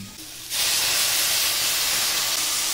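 Ground spice paste dropped into a hot pan for a Bengali shol fish curry with mixed vegetables; after a quiet start, a loud sudden hiss bursts in and holds steady to the end.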